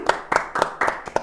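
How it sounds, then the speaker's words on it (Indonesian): A small podcast studio group claps briefly, five or six crisp, separate hand claps in an uneven rhythm, close and fairly loud, with no speech over them. "Tepuk tangan dulu dong."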